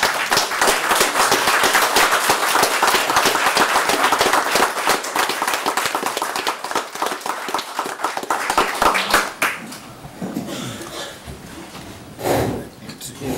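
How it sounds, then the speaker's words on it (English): At a commission meeting, the audience stands and applauds, sustained dense clapping at moderate distance for about nine seconds that then trails off into scattered claps and a quieter room. "if we all join and stand up and applaud the service that Fred Goins has done over the last 20 months."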